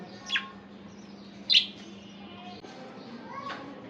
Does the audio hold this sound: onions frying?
no